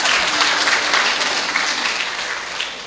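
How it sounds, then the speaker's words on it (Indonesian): A church congregation applauds during a Sunday service, steady dense clapping filling the room from start to finish and fading slightly toward the end. "Tepuk tangan untuk mereka."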